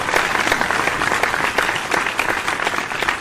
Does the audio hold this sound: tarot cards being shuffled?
no